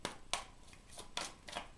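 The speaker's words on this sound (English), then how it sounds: "So we're going to keep shuffling." Tarot cards are shuffled by hand in quick, faint riffling bursts, about six short flicks in under two seconds. The sound is close but quiet, with no talking.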